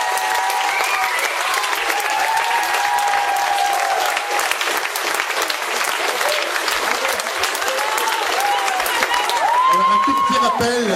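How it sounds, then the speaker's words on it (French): Warm, loud applause fills the room after a school musical comedy show, continuous clapping with a few cheers and whistles and some voices calling out over it, swelling slightly near the end. "Je pense qu'on peut les applaudir très très fort."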